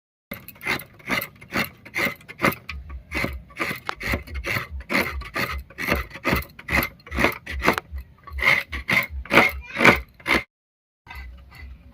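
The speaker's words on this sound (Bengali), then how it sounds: "নারকেলের নাড়ু বা তক্তি বানাতে নারকেল কোড়াতেই কিন্তু একটু সময় বেশি লাগে মা বাকি নারকেলটা কুড়িয়ে নিই আমি" Fresh coconut being grated by hand on a traditional grater, a steady run of close, loud rasping strokes in quick rhythm, briefly pausing near the end before resuming.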